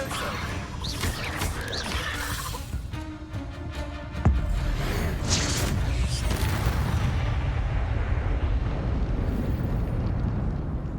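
An Incendio fire spell in Hogwarts Legacy bursts with a sudden loud whoosh and blast. A rumbling wash of fiery noise follows and continues over game action and spoken spell words.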